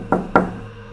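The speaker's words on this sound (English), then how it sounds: "There's a loud knock at the door." Two loud, close knocks on a door in quick succession, each with a short hollow ring-out, followed by quiet.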